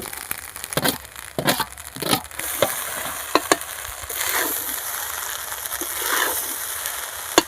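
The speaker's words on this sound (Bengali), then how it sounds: "এবারে ভাতের মধ্যে আমি ভেজে রাখা যেই সবজিগুলো ছিল আমি সেগুলো ঢেলে দিচ্ছি" Cooked rice and previously fried vegetables are tossed in ghee for restaurant-style fried rice: irregular spatula scrapes and clatters over a continuous sizzle, fairly close and busy, no talking.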